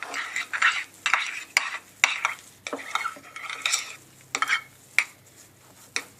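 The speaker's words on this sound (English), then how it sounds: "now we're just going to give it another good stir" A utensil scrapes and taps against a pot in uneven strokes, stirring a thick mixture of melted fat head dough close by with no talking.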